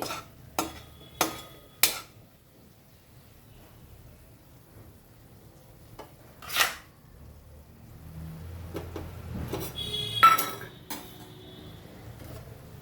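Bitter gourd pieces being tossed with chili powder and oil in a pan for kakarakaya fry, a few sharp metal scrapes and clinks of a utensil at the start, then softer scattered stirring and rattling, close and moderately quiet, no talk.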